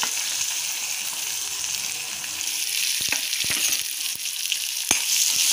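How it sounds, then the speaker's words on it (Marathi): Okra frying in a pan with curry leaves and a pinch of asafoetida, a steady close sizzle with a few sharp clicks of stirring, no voices. "भेंडी चांगली भाजून घ्यायची."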